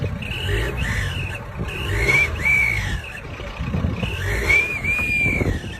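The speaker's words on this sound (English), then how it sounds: "You just clamp an actual whistle to your car's tailpipe to make up for not having a turbo." A whistle clamped to a car's tailpipe gives a thin, shrill whine that rises and falls with several revs of the engine, over a low, uneven exhaust rumble heard nearby.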